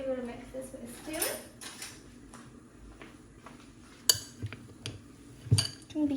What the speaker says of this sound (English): now we will mix this with a spoon